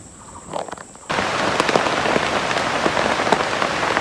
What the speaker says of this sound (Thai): พี่น้องตอนนี้ก็ฝนตกแล้วนะ